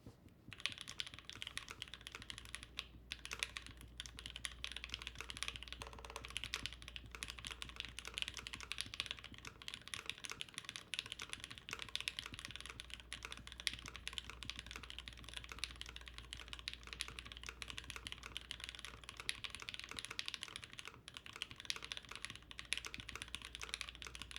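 Rapid, steady keystrokes on a custom Noxary Valhalla mechanical keyboard with X60 V2 keycaps, clattering continuously and fairly close during a timed typing test, with no talking.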